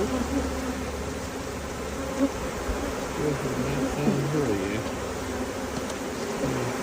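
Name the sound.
honey bees buzzing around beehive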